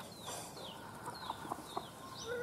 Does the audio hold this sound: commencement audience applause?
no